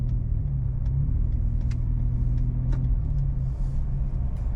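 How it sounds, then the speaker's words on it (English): Steady low rumble of road traffic in California, with car engines droning continuously and a few faint higher clicks over the constant hum. "this California traffic just absolutely sucks"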